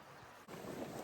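Steady mountain wind rushes and buffets the microphone, briefly dropping out before returning with a fuller roar.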